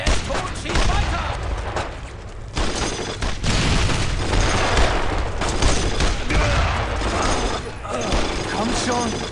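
Dense, continuous battlefield gunfire from the World War II shooter Brothers in Arms: Road to Hill 30, with volleys, booms and rattling shots running nonstop under shouted voices for the whole stretch.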